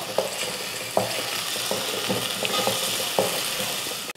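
Chopped small onions and about five garlic cloves fry in oil for a fish curry, giving a steady, close sizzle. A spoon stirring the pan knocks now and then, with no talking.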